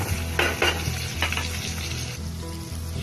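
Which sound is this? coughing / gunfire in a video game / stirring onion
stirring onion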